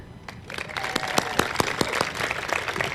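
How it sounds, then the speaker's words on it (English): Steady applause from an outdoor audience at the unveiling of a Leonardo's Horse sculpture in Sheridan, many hands clapping with sharp individual claps standing out, continuous for a few seconds. "We'll applaud regardless."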